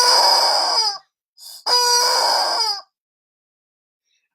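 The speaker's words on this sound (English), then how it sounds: "It's the Squeeze Me chicken, and it sounds a little something like this." A Kmart Squeeze Me chicken squeaky toy lets out two loud, shrill, strained squawks like a rooster crow, each about a second long, separated by a short gap with a brief chirp between, close and alone.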